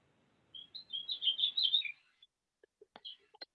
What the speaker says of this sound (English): Someone's got a bird.